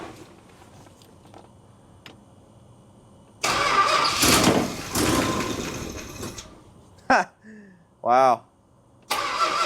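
A 1964 Chrysler engine, sitting unused for 25 years, cranks in loud bursts, stops and restarts, then catches with short revving surges, while people talk quietly before it and one exclaims briefly.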